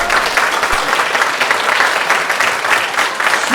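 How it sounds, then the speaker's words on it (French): An audience at a dubbing-actor conference applauds loudly, a dense continuous wash of clapping from many hands, close and sustained with no talk. "Je vais vous demander d'applaudir très très fort Monsieur Benoît Alman"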